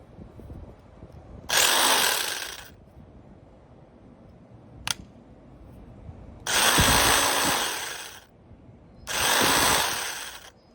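A vintage Black & Decker electric sander runs with nothing to sand, in three loud buzzing bursts of one to two seconds each, split by quiet gaps and one sharp click.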